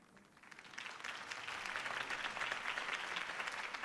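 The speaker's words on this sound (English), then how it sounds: "could have heard that applause" Crowd applause in the Batman: The Telltale Series video game swells quickly from quiet into sustained, dense clapping.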